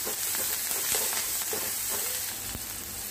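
Curry leaves and coriander frying in hot oil in a pan: a dense, continuous crackling sizzle up close, with scattered sharper pops and light stirring taps, no talking.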